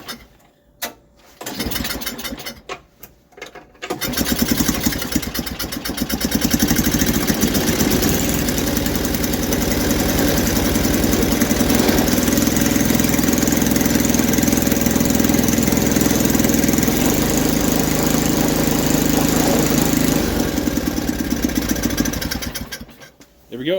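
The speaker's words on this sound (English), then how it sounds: "basically start up the engine and hold the auger lever down and then watch them spin" A snowblower engine starts after a brief bit of handling noise, then runs steadily and loudly with its augers engaged and spinning, a continuous broadband mechanical roar that fills most of the clip before cutting off near the end.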